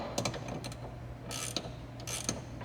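Wrench working the three ball joint nuts on the front end of a 1979 Porsche 928: quiet, irregular metallic clicks and ratcheting ticks over a low steady hum, with no talk.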